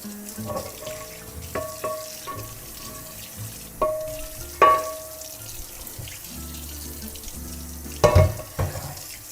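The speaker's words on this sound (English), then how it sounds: "Let me rinse off this pan here." A pan is rinsed under a kitchen tap, with running water splashing unevenly and several sharp clanks of the pan against the sink, close and moderately loud.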